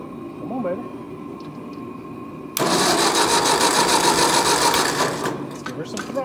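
A 600 engine cranked with the choke on: a quiet stretch with someone speaking, then loud sudden mechanical cranking churning for a few seconds before easing off.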